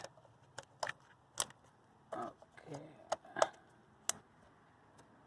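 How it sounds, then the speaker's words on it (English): Several sharp plastic clicks and taps of a spark plug connector being pressed into place, close up, scattered over a few seconds, with a brief spoken word and some handling noise between them. "When you're pressing in, you will hear that clicking noise."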